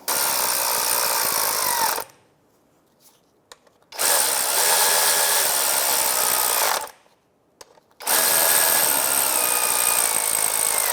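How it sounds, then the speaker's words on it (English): A 13mm socket drive snugs bolts on the aluminum oil pan of a 2005-2010 Chevrolet Cobalt. Two loud bursts of steady power-tool whirring are separated by a quiet pause with faint clicks, and no one talks. "13mm socket, and we're just going to snug these up and then we'll torque it down."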